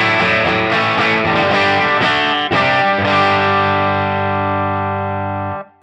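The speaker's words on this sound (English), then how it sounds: "I want to show you this flange that I've popped in here" Electric guitar through a flanger effect on an Axe-FX III modelling a Hiwatt DR103 amp, loud and distorted, strummed chords with sweeping swirl ringing out and sustaining to a fade.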